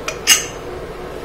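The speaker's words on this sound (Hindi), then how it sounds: "अब हम कुकर को खोल के देख लेंगे।" Metal clinks as a pressure cooker lid is opened after cooking masoor dal, two or three sharp bright knocks of pot and lid, close and alone in a quiet kitchen.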